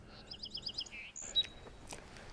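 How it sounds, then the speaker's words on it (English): A song sparrow sings on a guided bird walk at Birch Bay State Park, giving one short phrase of rapid bright notes and trills, fairly near and alone, followed by a few faint chips. "Song sparrows singing in here."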